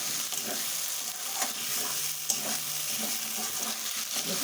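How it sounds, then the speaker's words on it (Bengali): Potato and tomato pieces stir-fried with spices in a pan, a continuous sizzle with repeated scraping strokes of a spatula, close and steady, no voices. "এর সঙ্গে ভালো করে এই মশলাগুলো মিলিয়ে একটু কষিয়ে নেব।"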